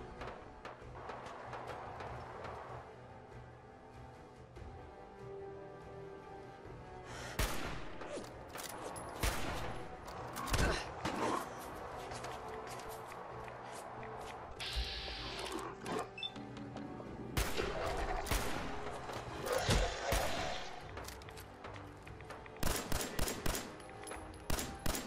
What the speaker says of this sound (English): Oh, and fucking minigun too.